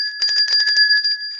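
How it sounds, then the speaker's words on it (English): A bell rings in a quick run of repeated strikes over a sustained high metallic tone, loud and close, with no speech, on a weather show's broadcast set. "Ring the bell for yourself."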